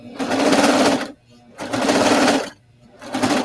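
A serger sewing machine stitches through a blanket in loud, close bursts, a fast steady whirring that runs about a second, stops briefly and starts again three times.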